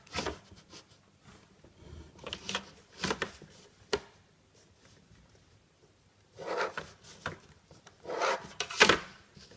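An eraser rubs a pencil point off a technical drawing in several quick bursts of close, dry scrubbing, with pauses between them and a louder final burst.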